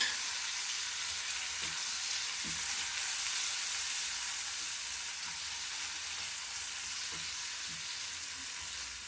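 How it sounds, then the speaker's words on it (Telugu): Small tomato pieces from one chopped tomato frying with onions in a pan, a steady faint sizzle with soft occasional ticks and pops close by. "ఇప్పుడు కట్ చేసి పెట్టుకున్న చిన్న టమాటా ముక్కలు, 1 టమాటా తీసుకొని నేను కట్ చేసి వేసుకుంటున్నాను"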